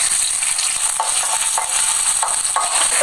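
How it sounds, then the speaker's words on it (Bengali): Garlic and onion fry in hot oil in a wok, giving a constant, close, dense sizzle with no voices, while a Bengali lentil dish is cooked. "এখন আবার আমি রসুন আর পেঁয়াজ দিয়ে তেলে দিব।"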